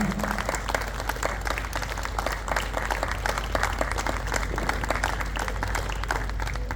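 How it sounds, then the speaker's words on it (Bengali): Loud, sustained applause from an audience fills the whole stretch, dense steady clapping with a low hum beneath, following a song at a music program of 60s to 90s songs. "আপনারা খুব জোরে একটা করতালি দেবেন"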